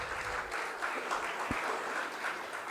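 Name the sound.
audience applause for senior students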